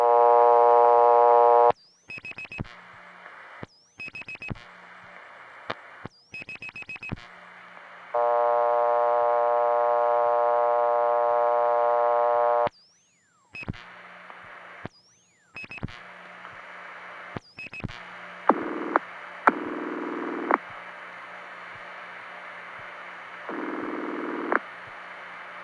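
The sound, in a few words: PBX telephone ring signal on a life insurance tie-line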